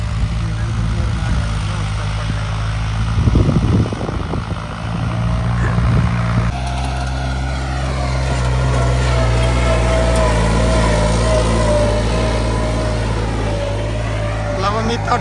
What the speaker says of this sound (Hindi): ट्राई ले रहा ट्रैक्टर जी